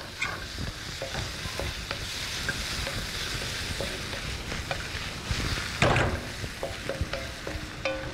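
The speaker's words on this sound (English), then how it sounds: "you really need to shake the wok around, get all the flavours together" Beef stir-fried in a wok that is shaken and tossed, loud continuous sizzling with clattering scrapes and metallic knocks, close up, one louder burst near the end, no talk.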